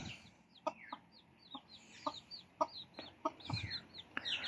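Pet chickens clucking close by in short, repeated bursts, with a few higher calls scattered over a quiet background.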